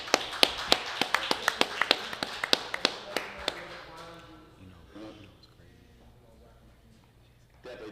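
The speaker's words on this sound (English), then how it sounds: "Clap it up." Sharp, evenly spaced claps ring out at a live onset brainstorming session for about three and a half seconds. They soften into a low murmur of voices and shuffling.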